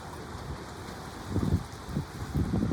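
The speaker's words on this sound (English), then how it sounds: "It's still windy" Gusty autumn wind blows outdoors by open water, a steady low rumble that swells into stronger buffeting gusts toward the end, with no voices.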